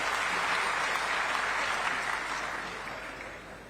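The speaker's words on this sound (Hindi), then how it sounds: "आदरणीय सुनील सोनी जी के लिए जोरदार तालियां।" Loud, dense applause from a large crowd at a farmers' gathering in Raipur, a steady wash of clapping that holds strong and then tapers slightly toward the end.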